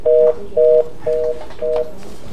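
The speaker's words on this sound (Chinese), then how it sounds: "咱先来接电话" An incoming telephone call on a Taiwanese radio call-in show sounds as four short, evenly spaced electronic tones, loud and clear against a quiet background.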